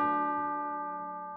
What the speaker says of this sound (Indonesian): Jam 12 dia dengar bel.